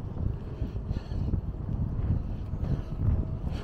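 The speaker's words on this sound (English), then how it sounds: "It's freezing out here on this windy day." Steady wind roars and buffets the microphone on a cold, windy New York City street, a dense low rumble that continues throughout with no voices.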